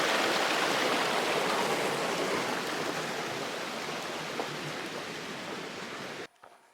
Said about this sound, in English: Here's Castle Creek. Looks like there's going to be lots of water today.